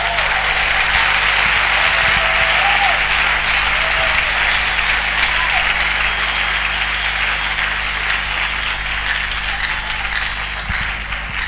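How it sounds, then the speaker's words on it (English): Sustained applause from a large crowd at an evangelistic crusade, loud and steady throughout with dense clapping filling the whole stretch and no clear voices above it. "Give him a good clap up from somebody."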